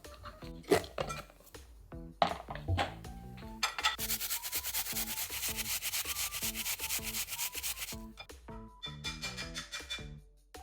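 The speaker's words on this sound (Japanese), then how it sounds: "りんごはこれですりおろしていきたいと思います" An apple grated by hand, a steady series of close, scratchy rasping strokes, quick and rhythmic, with a few light clinks of the grater at the start, recorded quietly with no voices.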